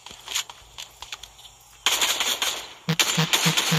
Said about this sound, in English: I hear gunshots. That's close.